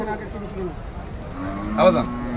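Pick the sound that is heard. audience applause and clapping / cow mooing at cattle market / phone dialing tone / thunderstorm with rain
cow mooing at cattle market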